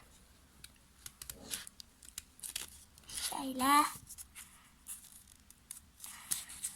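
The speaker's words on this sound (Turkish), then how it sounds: "Çok dikkatli bir şekilde kesiyorum." Scissors snip paper for a kirigami flower in a few quick cuts, with one longer, louder cut in the middle, close up and under a soft speaking voice.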